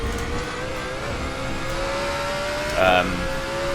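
Race car engine in the sim game RaceRoom Racing Experience, a steady droning whine that holds and slowly rises in pitch with a short louder rev burst near the end, while someone talks over it.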